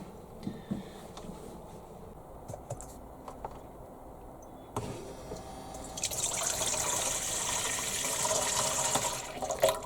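Water begins running partway through, a steady hiss and splash that grows louder after some faint clicks and taps in a quiet room.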